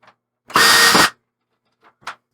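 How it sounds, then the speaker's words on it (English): Power screwdriver backing a screw out of a panel on a Tron Arcade1Up arcade cabinet: one loud, close, high-pitched whirring burst of about half a second, followed by small faint clicks and handling sounds. "I think all you have to do is take out these two screws on one side."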